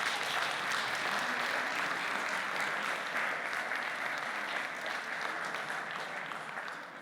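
An audience at an improv theatre show gives dense, sustained applause, steady and full throughout, slowly tapering toward the end with no talking.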